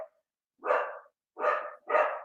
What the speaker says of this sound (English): dog barking while I'm filming.